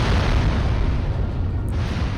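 A rocket explosion in the video game Destroy All Humans, a loud, heavy, sustained roar of blast and rumble that stays dense and steady for the full couple of seconds, with no speech over it.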